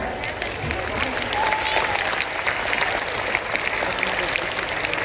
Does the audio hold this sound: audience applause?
yes